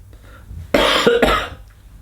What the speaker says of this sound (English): Now that's a little cough, that's nothing.